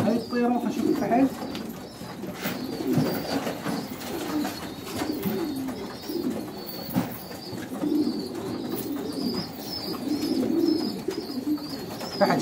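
A male pigeon coos in repeated low, throaty phrases at moderate distance, alongside soft background noise and faint rustling.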